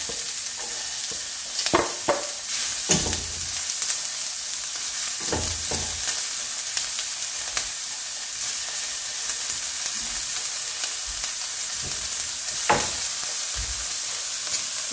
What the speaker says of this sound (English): Okay, let's put a tablespoon of oil. Let's add our onion.